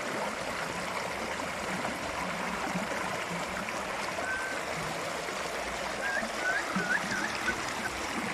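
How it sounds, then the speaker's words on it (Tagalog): Flowing stream water rushes steadily and evenly, a continuous close babble with faint chirps and a brief voice underneath. "Ganda ng tunog ng ano, ng tubig, yung agos ng tubig"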